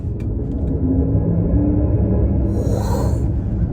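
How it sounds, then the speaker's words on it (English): 2024 Rolls-Royce Spectre EV playing its synthetic engine-style sound under throttle, a loud, close, steady low rumble that rises slightly, with a faint higher whine near the end. "push this button to activate the Rolls-Royce sound. And now when I hit the throttle"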